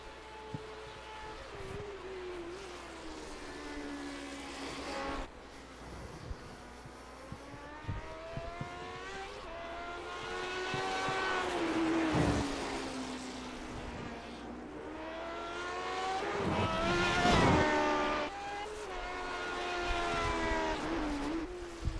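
A Lotus 79 race car laps the Indianapolis Motor Speedway road course in a racing video game, its engine note rising and falling steadily through gear changes, loud and continuous.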